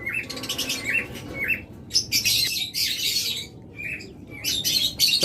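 Pet birds kept for sale, such as lovebirds, budgerigars, cockatiels and diamond doves, chirp and squawk together in a steady, busy chorus of sharp, high calls, with brief louder bursts and no talking.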